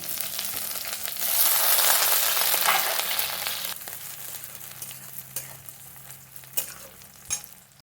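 Garlic dropped into hot oil in a wok for mutton curry bursts into a loud, bright sizzle that swells, then settles into steadier frying with occasional scraping stir sounds. No talk.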